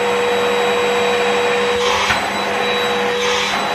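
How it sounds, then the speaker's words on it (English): A Hoover vacuum cleaner running in a home kitchen, a loud, steady whining drone with a high tonal whine throughout, close by, no speech. "I think we should get the Hoover."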